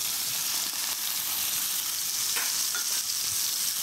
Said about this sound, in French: le filet de bœuf, il faut toujours le colorer de tous les côtés